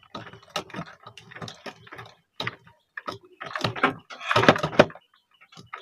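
A sewing machine needle punches through a blade in uneven clusters of sharp clicking and clattering strokes, close and fairly quiet, with short pauses between bursts.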